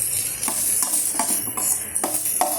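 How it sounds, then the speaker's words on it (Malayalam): Upma ingredients are stirred in oil in a pan with a spoon, making quick, regular scraping strokes about every half second over a soft sizzle. "നമുക്കൊന്ന് ഇളക്കി നന്നായിട്ടൊന്ന് മൂത്ത് വരണം"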